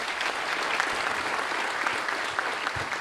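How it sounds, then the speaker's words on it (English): Dense, continuous applause rises from a crowd at a public safety awards ceremony, an even wash of clapping that stays steady from start to finish with no talking. "How about a round of applause for them?"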